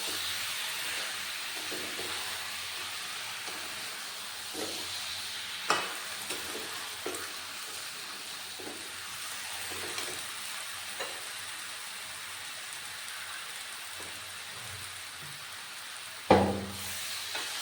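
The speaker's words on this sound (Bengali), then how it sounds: "এবার একটু সামান্য জল দিয়ে ভালো করে মশলার সাথে এঁচোড়টা কষে নেব।" Raw jackfruit sautéed with spices and a little water in a pan gives a steady close sizzle and hiss, with soft scrapes of stirring and a sharp clatter of the utensil near the end.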